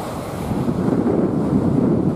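Waves wash steadily onto a clean white-sand beach in a continuous surging roar. Wind buffets the microphone and no one speaks.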